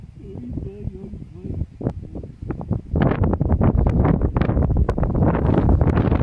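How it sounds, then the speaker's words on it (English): Wind rushing through a glen on the Isle of Arran at a wild campsite, buffeting the microphone with loud, continuous gusty roar that builds and stays heavy, with a voice talking over it early on. "The only thing about here is the wind."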